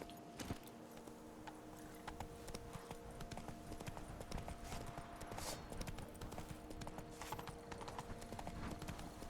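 Roach, the horse in The Witcher 3 video game, trotting with dense, rhythmic clip-clop hoofbeats that run steadily throughout at moderate loudness over a faint game ambience.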